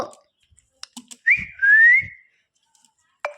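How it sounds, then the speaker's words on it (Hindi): A pet parrot gives one clear, sustained whistle that rises and then slides along, set among a few soft clicks and small noises, and ends with a short, sharp chirp. "ये देखो मिट्टू सीटी बजाने लगे।"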